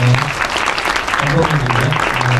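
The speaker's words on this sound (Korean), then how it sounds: "여러분 박수 한번 부탁드리겠습니다." An audience claps steadily at a film screening and talk with the crew of a North Korean human rights film. The applause is dense and sustained, and a voice talks over it.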